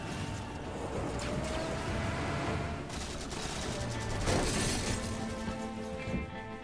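Gunfire and crashing impacts from a Halo-made Red vs. Blue battle scene, dense and continuous throughout with sharp bursts and breaking sounds.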